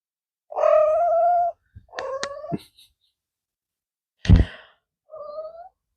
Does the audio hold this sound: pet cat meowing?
yes